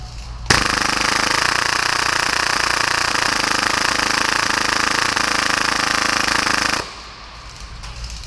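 A full-auto airsoft Hi-Capa pistol with a 300-round high-capacity magazine fires at about 30 rounds per second under a torture test, making a loud, continuous, close buzzing burst for about six seconds before it stops on its own.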